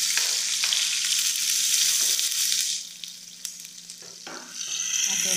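Onion and tomato sizzle steadily in hot oil, a dense bright hiss that dips briefly in the middle before swelling again, with a few scraping stirs cutting through.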